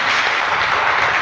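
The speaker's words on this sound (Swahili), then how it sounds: "Chotea Yesu Kristo makofi." Applause for Jesus Christ at a church healing service, a steady wash of many hands clapping together in a large room, sustained and fairly loud without a break.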